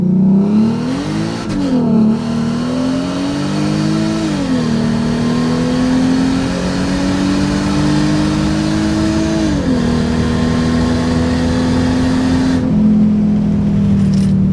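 A Mercedes SLK32 AMG engine revs loudly and steadily climbs in pitch through several gear shifts during a drag-racing pull, droning close and continuous throughout.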